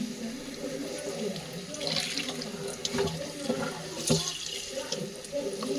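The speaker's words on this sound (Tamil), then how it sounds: "இந்த கட்டை ஃபுல்லுத்தையும் இந்த பாருங்க தண்ணியில் நல்லா அலசிடுங்க." Running water splashes continuously as a bunch of spinach is rinsed in a sink, the swishing and gurgling fairly quiet and close, with faint voice-like sounds mixed in.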